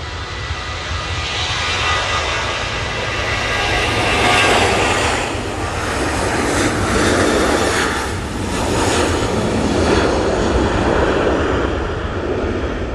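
An Etihad jet departs Manchester Airport with a steady, moderately loud engine roar that swells and eases in slow waves, sounding from some distance away.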